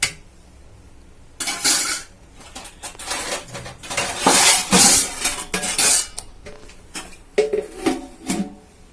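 A metal pot of beef biryani being handled and covered, with a series of loud clattering metal clanks and scrapes close by after a quiet start, finishing in a few lighter knocks.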